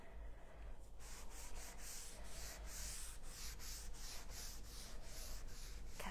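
Paint being wiped by hand across a furniture surface, a steady close rubbing with rhythmic swipes repeating about every half second, alone without talk.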